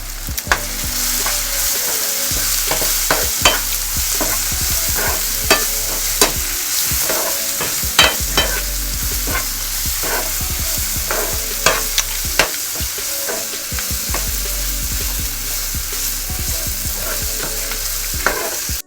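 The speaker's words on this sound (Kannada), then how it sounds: "ಚಂದ ಫ್ರೈ ಆಯಿತು" Ground chilli, coriander powder and kanda masala fry in a pan for boiled-egg bhurji, with a steady close sizzle broken by repeated sharp scrapes and clacks of a spoon stirring, no voices.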